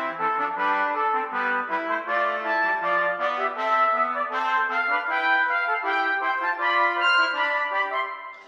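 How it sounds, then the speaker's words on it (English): Continuous instrumental music played as a transposing round, with several overlapping melodic lines entering and weaving together, moderately loud and steady throughout, with no talking. "producing a transposing round, which sounds like this"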